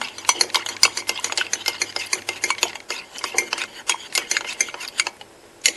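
Juice mixed with potato starch is stirred briskly in a pot, giving a rapid series of close scraping and clinking strokes against the bottom and sides, steady for several seconds and then slowing near the end.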